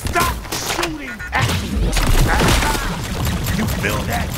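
Gunfire from the video game High on Life crackles in bursts of sharp shots and impacts, loud and close, mixed with thuds, whooshes and a voice shouting over the chaos.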